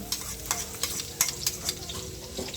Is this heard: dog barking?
no